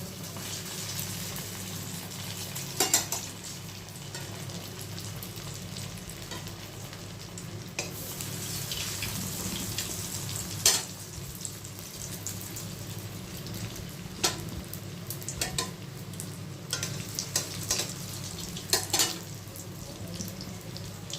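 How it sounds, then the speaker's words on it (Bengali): Paneer pieces frying in hot oil, one at a time, give a steady moderate sizzle throughout, broken by occasional sharp clicks and clatters from a utensil against the pan; no voices. "গরম হয়ে গেছে এবারে এক এক করে ভেজে নেব"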